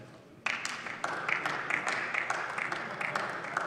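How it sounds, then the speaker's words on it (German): Applause in a German state parliament breaks out suddenly and holds as a steady, dense crackle of many hands, heard from a distance at moderate loudness. "Applaus"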